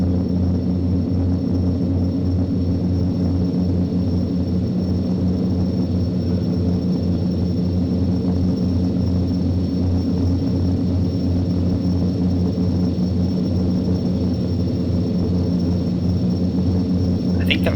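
Majestic Q400 turboprop cabin drone in a flight simulator game: a loud, steady propeller and engine hum with layered low tones and a constant high whine, unbroken throughout.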